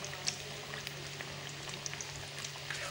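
Besan-coated potatoes fry in a pan over a low flame, giving a soft, steady sizzle with faint scattered pops and crackles throughout.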